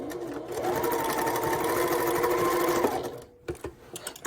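A sewing machine stitches fabric for a small heart-shaped pouch in one steady, even run of about two and a half seconds, then stops, followed by a few faint handling knocks.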